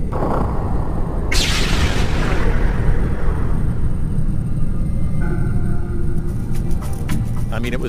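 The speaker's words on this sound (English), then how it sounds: "A second explosion, another explosion, a fourth explosion at the Trade Center." Explosion at the World Trade Center: a sudden loud burst followed by a long heavy rumble that slowly fades, with the broad roar of a distant blast and debris; voices talk beneath it.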